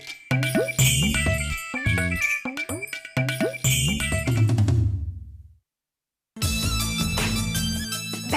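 A bright, tinkling phone ringtone melody plays loud and close, stopping briefly for about a second of silence before the chiming tune resumes.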